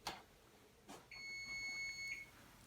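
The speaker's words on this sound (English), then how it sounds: "Okay, our timer has gone off." A kitchen timer goes off during home mead making, a single faint high electronic beep lasting about a second, following a couple of soft clicks in a quiet room.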